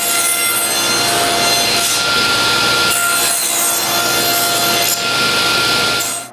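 Hand saw cutting through wood for a wooden tripod, with steady loud back-and-forth rasping strokes running continuously at close range.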